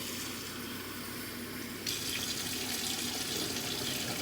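Tap water runs steadily into a container for chicken-wing gravy in a kitchen, a soft, continuous hiss that grows slightly louder and brighter partway through.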